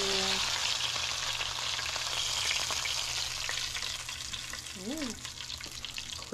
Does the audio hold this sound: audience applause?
no